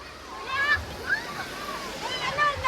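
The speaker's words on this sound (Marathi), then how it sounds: "या लाटा बघा" Rough sea waves crash and wash along the shore in a continuous loud roar, with people talking over the surf.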